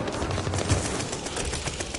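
Gunfire in the shooter Call of Duty: Vanguard, a continuous rattling barrage of rapid shots filling the whole moment, loud and dense with no pauses and no voices.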